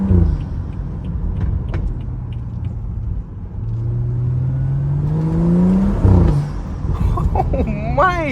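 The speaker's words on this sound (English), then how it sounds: "Listen to the shifts. The shifts are so good." A modded BMW 335i accelerates hard through several gear shifts, its engine note rising and dropping at each shift with a sharp pop. A person talks excitedly over the engine from inside the car.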